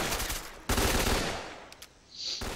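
A machine gun in the Stalker Clear Sky shooter fires in dense, loud bursts of rapid automatic shots, with a brief lull and then the firing resumes.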